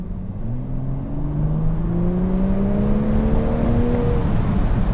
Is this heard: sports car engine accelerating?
yes